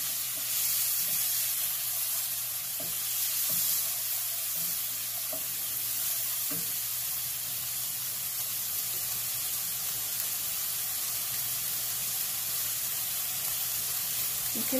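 Chopped onions frying in a hot pan for baked ziti, a steady close sizzle with faint stirring clicks, no talking.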